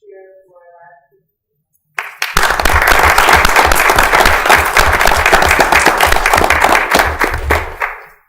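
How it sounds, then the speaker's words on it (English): Sustained loud applause with cheering from a room of people at a board meeting, rising suddenly after a brief quiet moment and continuing steadily for several seconds before tapering off. "this is the cheer for last week"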